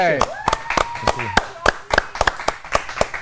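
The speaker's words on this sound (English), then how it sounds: "let's have a big round of applause for Rodney" A small audience applauds, a sparse rhythm of distinct hand claps close by, with a voice speaking over the opening part.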